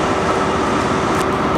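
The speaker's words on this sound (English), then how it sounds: "arrived at Paddington Station" Trains rumble at London Paddington Station, a steady loud mix of rolling wheels, engine drone and station echo, with a brief higher hiss near the end and no voices.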